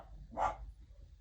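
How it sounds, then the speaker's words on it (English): A dog barks once in the background at visitors arriving next door, a single short muffled bark, fairly faint and distant. "You might be able to hear Henry in the background barking because visitors have arrived next door"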